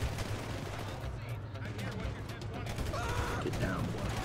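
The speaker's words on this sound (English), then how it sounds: "Let's shoot these people here." Rapid gunfire crackles through a Grand Theft Auto 5 firefight, a dense, continuous barrage of overlapping shots and bursts layered over steady low game rumble.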